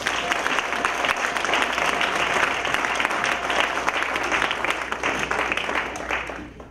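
Church congregation applauding loudly and steadily, a dense wash of clapping with some crowd noise throughout.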